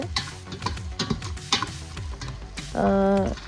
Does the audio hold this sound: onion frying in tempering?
yes